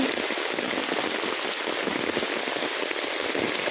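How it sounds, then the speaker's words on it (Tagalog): Heavy rain in Zhengjin, China pours steadily onto a hard surface, a dense continuous hiss and patter with no voices. "ang lakas ng ulan"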